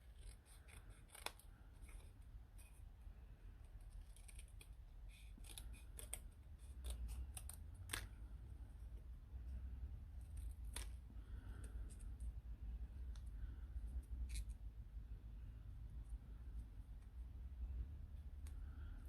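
Scissors cut through corrugated cardboard for a miniature room build, giving a steady run of close, faint crunching snips and rasping scrapes with a low background hum.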